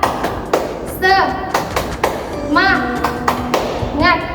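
Children's sharp claps ring out in a rhythmic classroom clapping pattern while an adult teacher speaks over them and a quick tune plays in between.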